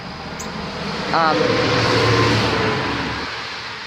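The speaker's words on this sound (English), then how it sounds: "Clearly traffic is going to be louder with the wet pavement below the rolling wheels" Road traffic on wet pavement, a steady hiss of rolling tires with a vehicle swelling louder as it passes and fading away, heard nearby with no talking.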